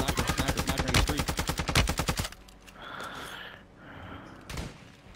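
Rapid automatic gunfire from a battle royale video game rattles loud and close for about two seconds, a steady burst of evenly spaced shots, followed by quieter game ambience and one more sharp shot near the end.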